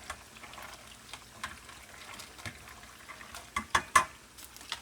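Pasta with eggplant stirred in a pan, a soft steady background hiss with scattered light scrapes that build into a few louder clatters near the end, close by and without talk.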